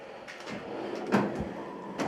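A drawer of a Snap-on KRL 55-inch tool chest slides open in a garage, a smooth metallic rolling rumble with a soft clunk as it reaches its stop, close and without talking.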